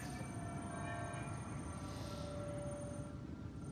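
A tram glides past in the video game Mass Effect Andromeda, a quiet steady rail rumble with faint high tonal whines drifting across, heard softly and alone.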